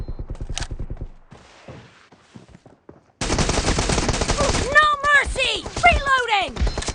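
Rapid bursts of automatic rifle fire ring out in a PUBG team deathmatch, short stuttering volleys near the start, then dense sustained firing and whizzing effects after a quiet gap, with game voice callouts mixed in.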